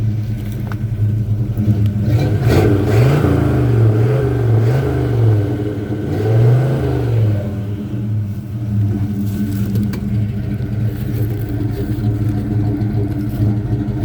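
A freshened-up 350 V8 in a 1984 Chevy C10 pickup idles with a steady low rumble, then revs twice in quick swells around the middle before settling back to a rough, even idle, close and loud.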